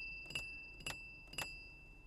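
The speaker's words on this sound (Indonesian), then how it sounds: "satu khasnya Rolls-Royce ada bunyi ting-ting di ventilasinya" Three bright metallic pings, evenly spaced, each a short ringing tick as the thin metal air vent slats of a 2023 Rolls-Royce Spectre are flicked with a fingernail, close up and otherwise quiet.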